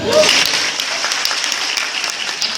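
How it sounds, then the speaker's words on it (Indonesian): Applause from an audience at a university stand-up comedy show, a steady wash of clapping that holds at fairly even loudness throughout, with some voices mixed in near the start. "tepuk tangan dong"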